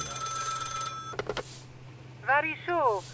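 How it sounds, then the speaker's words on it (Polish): A telephone rings in the police-checkpoint video game Contraband Police, a steady electronic ring for about a second followed by a few clicks, then a voice speaks briefly afterward. "Czy Paweł, czy ty kiedyś odbierzesz, kuźwa, telefon w swoim życiu?"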